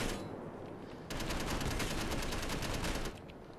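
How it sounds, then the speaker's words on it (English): A sustained burst of rapid automatic gunfire in the video game Space Engineers, aimed at a downed target. It runs for about two seconds in a dense stream after a quieter lead-in, then stops. "I want to pump some shots into it to be sure."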